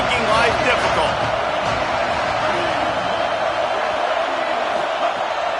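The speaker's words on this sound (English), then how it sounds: "Now this home crowd making life difficult." A home crowd in a college football video game gives off a steady, dense roar that fills the whole stretch at constant loudness, with a commentator talking over it.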